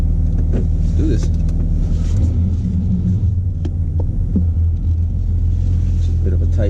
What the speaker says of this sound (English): a lot of exhausts sometimes they just drone inside the vehicle, as you can hear